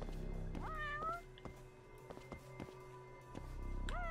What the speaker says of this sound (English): Yeah, get a cat, get a drone.